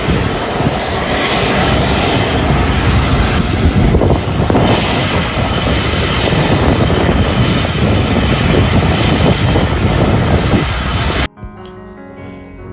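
A propeller warplane that has just landed roars loudly and steadily with dense engine and airscrew noise close by, cutting off abruptly near the end.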